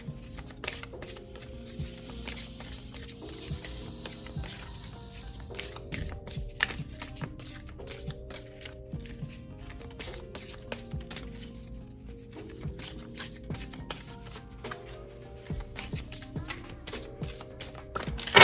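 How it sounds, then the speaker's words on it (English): Large oracle cards are shuffled by hand in repeated bursts of soft flapping and tapping, close up, while gentle background music plays. "Cards are the ones that take me the longest to shuffle because they're just so big for my hands"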